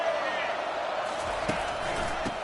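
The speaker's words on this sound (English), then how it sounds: "This crowd bringing the energy and noise." A steady roar of a large college football stadium crowd at a Virginia Tech game fills the space, a continuous wash of distant voices with a few brief thumps and shouts rising out of it.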